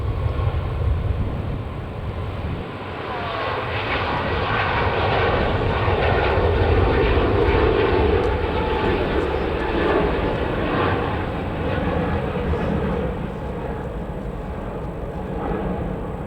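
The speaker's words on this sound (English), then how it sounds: "this is a TUI 737 MAX 8 and looks like it's taken off from here at Manchester" A TUI Boeing 737 MAX 8 jet at Manchester takes off with a loud, sustained engine roar that builds and then slowly fades over a long stretch.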